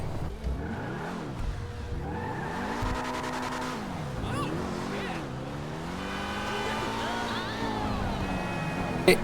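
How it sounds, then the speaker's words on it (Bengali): Car driving in the video game GTA V, a racing car bought from a gangster, with a steady engine drone whose pitch climbs and falls through repeated revs and gear shifts, alone and close. "এখন আমরা এই কারটা নিয়ে চলে যাব রেসিং স্পটে"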